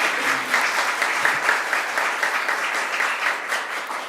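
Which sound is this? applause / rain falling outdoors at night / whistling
applause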